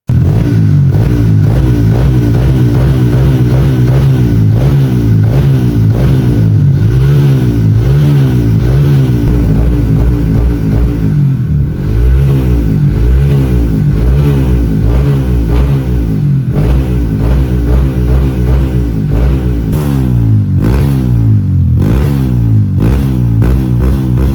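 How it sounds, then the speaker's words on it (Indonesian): A bored-up Honda CRF 180cc motorcycle engine running through a Norifumi Noctus T5 aftermarket exhaust, loud and close, revved again and again in rising and falling sweeps over a steady throbbing idle, with no talking. "di sini kita coba cek sound, ini knalpot menggunakan, Norifumi Noctus tipe T5"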